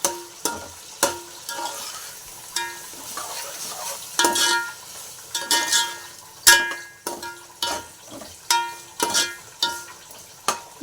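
Chicken curry being stirred in a pan after salt goes in, a spoon scraping and clinking against the metal in repeated strokes over a soft background sizzle, close and fairly loud, with no talking.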